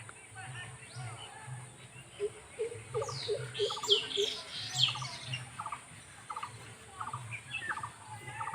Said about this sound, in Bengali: দেখতে আমার খুব ভালো লাগছে হাঁসের বাচ্চাগুলোকে